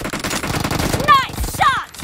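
Sniper shots from an M24 rifle in a team deathmatch video game, a couple of sharp cracks over dense game noise, with a voice calling out briefly in the mix.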